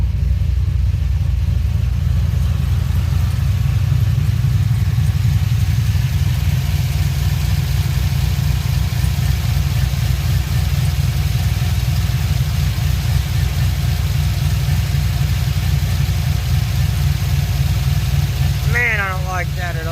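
A 2007 Pontiac G6 GXP engine running after a radiator replacement gives a loud, steady, close low rumble that holds evenly throughout, with a brief voice near the end.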